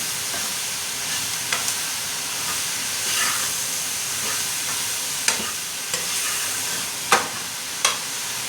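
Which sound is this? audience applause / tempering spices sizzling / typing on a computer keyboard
tempering spices sizzling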